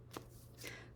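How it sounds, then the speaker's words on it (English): Oracle cards being shuffled by hand, heard as two short, crisp riffling bursts up close against a quiet background. "you can focus on that now while I'm shuffling."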